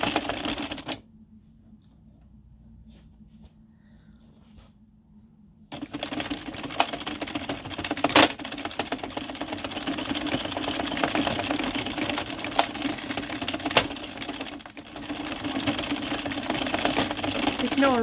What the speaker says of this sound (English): Ignore all the clunking, it's just the cog slipping